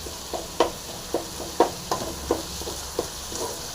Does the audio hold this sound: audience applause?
no